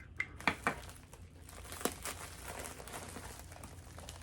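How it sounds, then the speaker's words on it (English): Pink and green bubble wrap crinkles close by while an item is packed, with a few sharp crackles early and then a steady, quieter rustle, no talking. "Pink and green bubble wrap."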